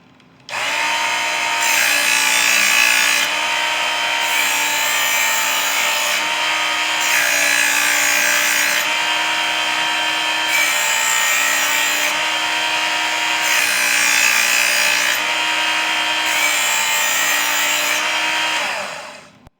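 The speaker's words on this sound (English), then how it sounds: "an 8-inch blade should take about a 2-second stroke on each side of the blade" A Work Sharp belt sharpener grinds a kitchen knife blade in steady, even strokes, a loud continuous abrasive whir with rhythmic rising and falling passes roughly every two seconds, alone and close.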